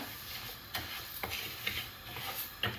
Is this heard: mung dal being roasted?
yes